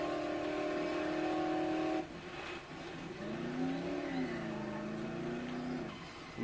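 A vehicle engine drones in the zombie video game Dead Island on PS3, a steady mid-pitched hum that drops abruptly, then settles into a lower, wavering idle as the car slows and stops.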